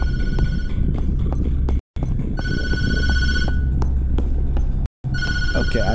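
In the video game Tattletail a telephone keeps ringing, its bright electronic rings repeating in long bursts separated by two short silent breaks, loud and up close over a busy game soundscape.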